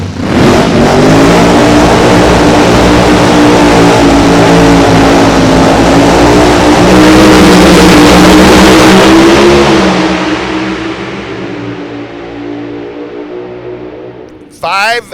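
Drag racing cars rev to about 7,000 RPM and launch down the track, a loud sustained engine roar that rises in pitch and fades into the distance as they head for the far end.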